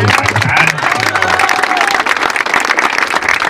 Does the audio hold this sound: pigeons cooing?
no